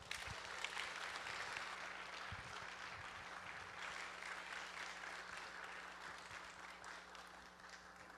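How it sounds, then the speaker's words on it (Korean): Applause from a church congregation at a Sunday evening worship service, sustained broadband clapping filling the room steadily for the whole stretch, fairly distant and gradually easing slightly toward the end. "우리 앞으로 나오실 때 큰 박수 부탁드리겠습니다."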